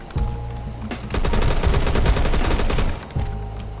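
A short, stockless FAL rifle firing in Phantom Forces, a rapid string of loud, close shots with heavy punch, preceded and followed by brief single cracks.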